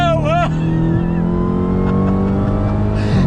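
A 2019 Dodge Challenger Hellcat Redeye pulls hard under throttle, its engine note rising steadily and loud throughout, with a brief voice heard early on.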